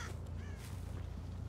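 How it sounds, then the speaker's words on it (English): A crow caws faintly in the Dead by Daylight video game, a couple of short distant calls over a steady low ambient hum. "It was probably just a bird."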